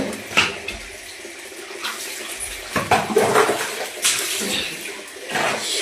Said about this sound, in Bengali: স্নান করবো এখন, এখানে বসে